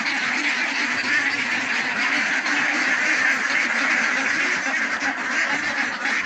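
A flock of ducks quacks continuously and loudly at close range, a dense overlapping chorus with no pauses throughout.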